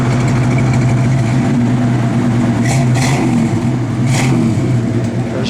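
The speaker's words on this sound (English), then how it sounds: "It's got a good sound to it, good sounding big block." A big-block V8 engine in a 1971 Chevrolet Chevelle SS rumbles loudly and steadily at close range, a deep throaty idle with a few brief higher clatters over it.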